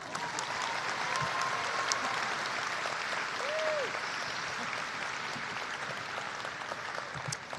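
Audience applause at a new student convocation ceremony, sustained dense clapping from a large crowd filling the hall at an even level throughout, with a faint voice underneath.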